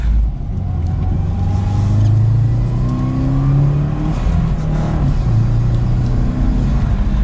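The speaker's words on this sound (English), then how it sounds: "now we can give it a little bit of gas" A Subaru WRX sport sedan engine pulls strongly, its pitch rising through the gears with shifts between them. It is loud and steady from inside the car, and no one speaks.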